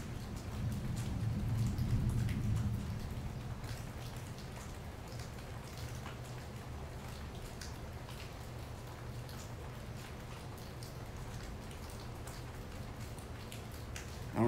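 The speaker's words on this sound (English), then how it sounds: "I don't know if you can hear that in the background, but that is wind and rain" Steady rain falls with a soft hiss and patter during a spring storm, and a low gusting wind rumble swells early on before easing into a constant wash.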